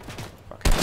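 A shotgun blast goes off in a Fortnite squads match, one loud close burst arriving suddenly near the end after quieter game ambience.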